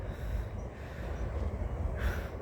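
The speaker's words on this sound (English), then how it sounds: "I love that train, it's one of my favourites." A train passes during a morning walk outdoors, heard as a steady, fairly faint rumbling roar that holds without a break for the whole stretch.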